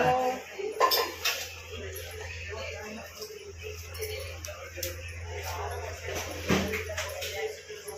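A Navratri ghat pot being covered at home, with several clinks and clatters of metal and dishes close by over a low steady hum, a voice talking at times.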